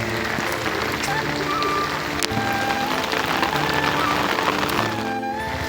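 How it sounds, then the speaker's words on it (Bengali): Rain drumming on an umbrella held overhead, a dense steady patter with a few sharper drop hits, close and continuous, with a faint voice beneath. "বৃষ্টির দিনে ছাতা মাথায়।"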